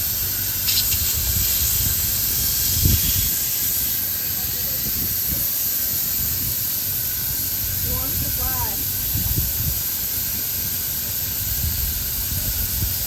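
Gas hisses steadily and loudly as a weather balloon is filled at a university launch, a continuous broadband rush running throughout with brief faint squeaks and a few murmured voices nearby.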